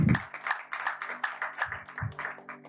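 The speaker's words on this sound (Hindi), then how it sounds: "एक बार उसके लिए भी ताली मारो।" A church congregation at a Sunday revival sermon in Solapur claps together in a steady rhythmic beat, with a low humming tone underneath.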